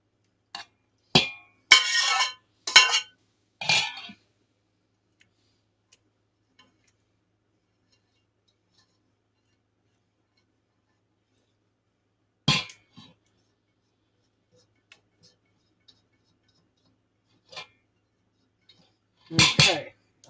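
A sturdy spoon clatters against a big bowl while stirring cornbread dressing, in a cluster of close scraping knocks at first, then scattered single clinks separated by long quiet gaps.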